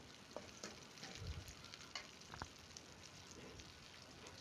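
Onions and curry leaves frying for egg masala, a steady crackling sizzle with scattered sharper pops and a brief stir partway through, close and continuous with no talk.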